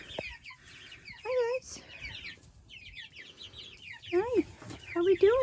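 Young chickens out on pasture cluck and give warbling calls in several close bursts, some loud and rising, with soft rustling and a person's voice now and then.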